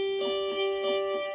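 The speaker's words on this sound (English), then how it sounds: "analog D-bucket delay" Sustained electric guitar notes through an analog bucket-brigade delay pedal, with a soft, repeating echo that swells and fades in a gentle pulse.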